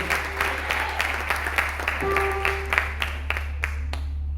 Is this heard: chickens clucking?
no